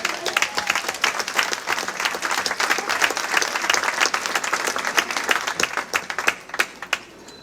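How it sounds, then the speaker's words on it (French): A crowd applauds festival committee volunteers at a civic gathering in Vence, France: loud, sustained clapping from many hands with a brisk uneven rhythm, fairly close and without any voices over it. "Et on peut les applaudir encore une fois."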